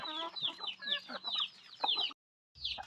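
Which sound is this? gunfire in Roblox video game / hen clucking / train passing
hen clucking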